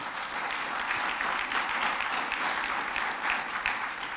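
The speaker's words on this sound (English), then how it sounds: "Let's give him a round of applause for that, please." A crowd at an event gives a steady round of applause, even and sustained clapping heard from a little distance, moderately quiet with no speech over it.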